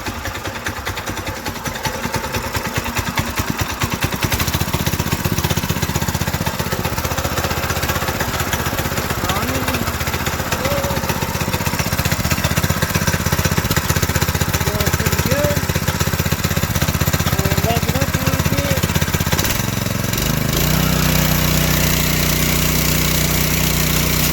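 A Predator 212 small engine in a Volkswagen Baja Bug cranks and starts, then settles into a loud, steady running putter for the rest of the clip, briefly dipping and changing tone near the end, with no talk.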